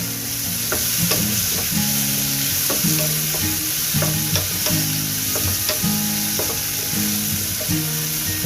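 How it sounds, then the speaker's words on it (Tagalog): Chili peppers sauté in a hot pan with a loud, continuous sizzle, broken by regular clicks and scrapes of stirring. "Sama sa amoy pag ginigisa yung sili."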